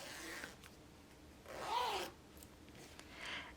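A short zipper pull on a flat zipper pouch being sewn, a quick rasping zip in the middle of a quiet stretch, with faint fabric rustles on either side.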